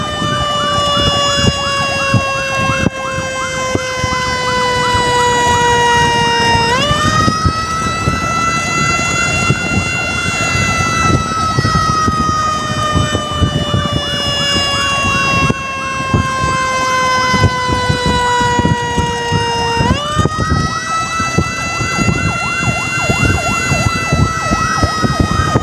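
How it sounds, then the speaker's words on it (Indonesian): A loud wailing ambulance siren sounds continuously nearby, its pitch sliding slowly down and jumping back up in long cycles over an engine rumble. "Ambulan masih di belakang kita."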